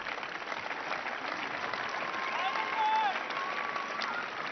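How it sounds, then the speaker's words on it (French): Tennis crowd applause at Roland Garros in 1992 during a first-round match, a steady wash of clapping held at moderate level, with a faint whistle-like tone drifting through the middle. "sous les applaudissements"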